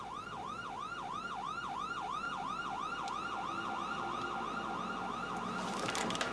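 A wailing emergency siren cycles rapidly and steadily, heard at a moderate distance over low traffic rumble.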